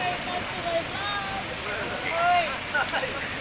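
Matikawal Falls in Mapanas, Northern Samar fills the air with a steady broadband rush of falling water, with people talking faintly over it and brief whistling chirps.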